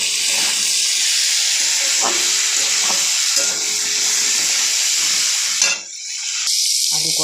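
Potatoes frying in a pan with cumin and dry chilli powder, a loud continuous sizzle and hiss broken by repeated scraping stirs, with a brief dip near the end.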